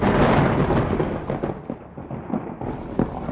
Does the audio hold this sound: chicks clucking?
no